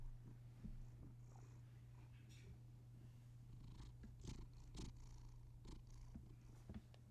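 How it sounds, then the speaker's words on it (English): A house cat purrs steadily close to a microphone, a low continuous rumbling hum with soft breathing pulses and occasional small clicks, quiet and without talk. "He's a little purr baby."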